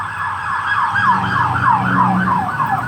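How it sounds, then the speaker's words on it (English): A wailing siren sweeps rapidly up and down in a fast, repeating yelp, moderately loud and steady over a low traffic rumble. "here comes another siren"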